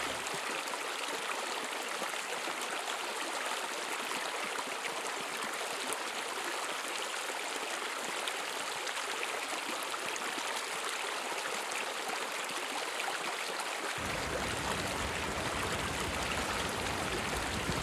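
Perte du Bonheur river in the Cévennes rushing steadily in heavy rain, a dense continuous roar of flowing water close by, with no voices.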